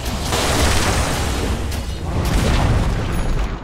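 A tower collapses in Dota 2 with a loud, sustained rumbling boom, a dense wash of crumbling debris and explosive noise that swells again near the end.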